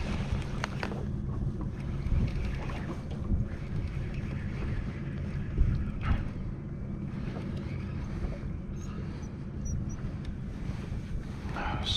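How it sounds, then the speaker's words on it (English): A trolling motor on a fishing boat runs as a constant low drone, joined by wind buffeting the microphone and water noise, with no gaps and no speech. "I could never pull this off without the trolling motor"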